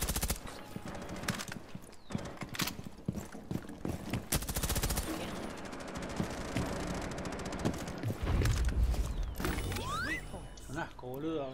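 Gunfire in the video game Rainbow Six Siege, with sharp repeated shots and bursts of varying loudness over a busy game soundscape, while players talk throughout.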